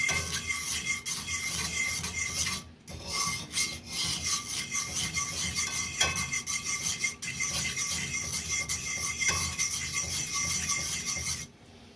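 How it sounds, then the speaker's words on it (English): A utensil scrapes and rubs in a pan again and again while a pineapple upside-down cake mixture is stirred until it blends. The steady rasp is close and has brief pauses, with no talking. "You just want to keep on stirring and stirring until it's all blended together."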